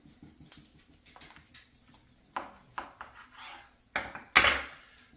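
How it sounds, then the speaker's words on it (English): A handmade kitchen knife cuts through a smoked rack of lamb cooked on a Pit Boss Austin XL, breaking between bones, with scattered taps, scrapes and knocks on a board that build to a couple of louder clatters near the end. "Let's go ahead and go right into the center."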